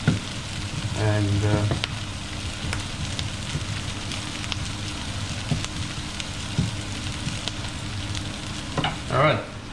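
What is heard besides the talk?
kale stir-frying in a pan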